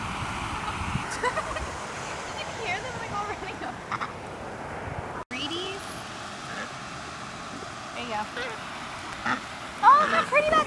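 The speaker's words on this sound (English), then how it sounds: "Oh, look how pretty that duck is! It's black and white!" Ducks quack in short bursts outdoors near a turkey-like duck and a black-and-white duck, with people talking and exclaiming over them throughout and a louder flurry near the end.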